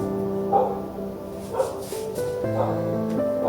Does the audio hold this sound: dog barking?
yes